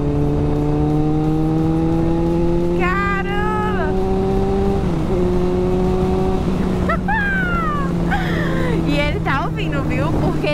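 A Yamaha XJ6 motorcycle ridden at high speed drones with a loud, steady engine tone that shifts slightly in pitch, while a rider's voice talks and exclaims over the wind-blasted roar.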